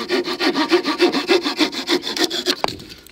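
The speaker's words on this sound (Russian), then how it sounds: "Так, ну ладно, перепилили." A Victorinox RangerGrip pocket knife's 130mm saw blade cuts through wood in about ten quick, even back-and-forth rasping strokes, close and loud, ending in a brief snap and quiet.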